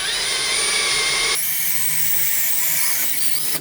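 A 5.2 mm drill bit bores a through hole in a wheel of a BMW G310 motorcycle, a close, loud high-pitched whine that drops in pitch partway through as the bit bites, then runs steadily and stops.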